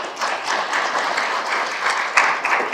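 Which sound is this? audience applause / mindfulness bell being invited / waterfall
audience applause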